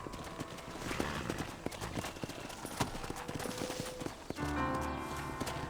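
Horse hooves clip-clop steadily in Red Dead Redemption on a ranch near a stable, under a busy mix of game sounds, with a brief shift in the background near the end.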